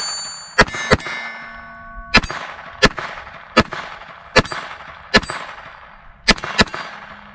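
A handgun fired outdoors through a magazine, nine sharp loud reports spaced roughly half a second to a second apart, each ringing off with a metallic decay, including one quick double shot near the start.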